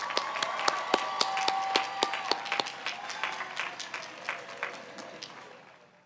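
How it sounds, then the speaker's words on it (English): Scattered applause from a commencement audience at a College of Environmental Design ceremony, individual sharp claps standing out over a thinner wash, fairly quiet and gradually fading over several seconds. "A round of applause, please,"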